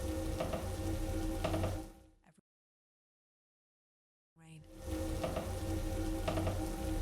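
Heavy pouring rain at night outside an old hotel, a steady broadband hiss that drops away into a two-second silence, then returns just as dense and constant.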